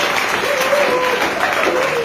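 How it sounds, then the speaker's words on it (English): Steady audience applause at a motivational youth talk, dense and continuous throughout with crowd noise blended in, loud and close. "some of you are clapping and getting excited"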